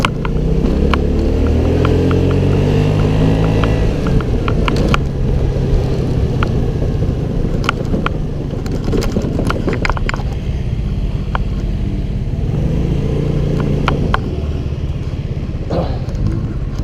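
A Piaggio Vespa 125 scooter is ridden with its engine droning steadily and loudly the whole way, wind rushing over the microphone and small knocks from the road, and no one talking.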